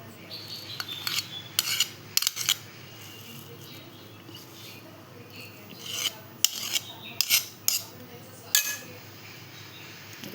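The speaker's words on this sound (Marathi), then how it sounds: "आता आपण डिशमध्ये काढून घेऊया." Hot pineapple sheera is spooned from a pan into a dish. A metal spoon scrapes and clinks against the cookware in irregular strokes, with sharper taps now and then and faint background noise.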